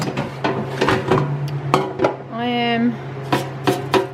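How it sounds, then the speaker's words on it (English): Dirty square air fryer basket, crumbs left from pizza, being pulled out and handled: a run of hard clattering knocks and scrapes, with a short squeaky rub midway, close and fairly loud with no talking. "So here's my air fryer."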